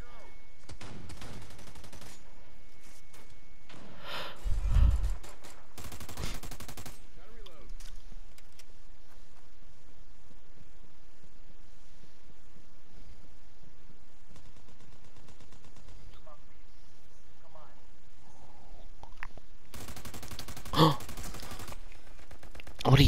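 Pistol shots from what may be a Desert Eagle or G18 in America's Army: Proving Grounds, sharp bursts at intervals, with a rapid volley near the end, while players gasp and talk over the action.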